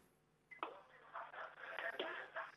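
A telephone is dialed for a call-in prize quiz: faint, quiet tones and beeps run through the short stretch, picked up at low level.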